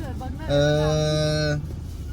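A bullock lets out one loud, steady low lasting about a second, close and clear above light background chatter.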